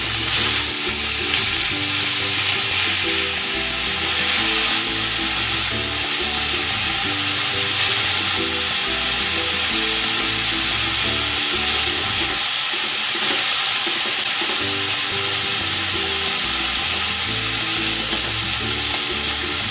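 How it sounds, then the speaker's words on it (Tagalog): Pork ribs sear in hot cooking oil with a loud, constant sizzle and hiss, overlaid with rhythmic scraping and clatter of stirring in the pan, close up and without talk. "Ilalagay ako ng cooking oil. Isi-sear ko muna itong pork ribs."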